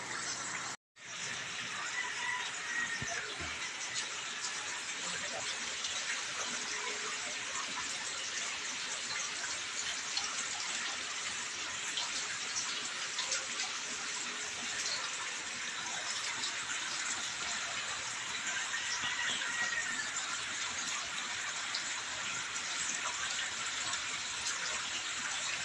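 Water pours steadily into crab farming containers, a continuous close gushing hiss lasting throughout with one brief break near the start.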